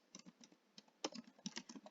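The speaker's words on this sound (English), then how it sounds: "excuse my typing," Quiet, irregular clicking of keys on a computer keyboard, recorded close but at low volume, with bursts of rapid presses separated by brief pauses.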